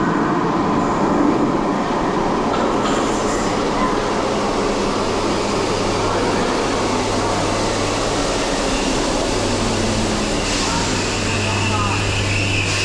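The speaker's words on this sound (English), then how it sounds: "now here's our train to take us to Birkenhead" A Merseyrail commuter train arrives at a station on the line to Birkenhead Hamilton Square, a loud, sustained rumble of wheels on rails with squealing and clattering as it pulls in, heard close by.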